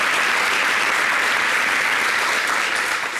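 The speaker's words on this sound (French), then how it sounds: "On peut applaudir pour moi." A television show studio audience bursts into dense, sustained applause, loud and even throughout with a faint crowd murmur and no talking on top.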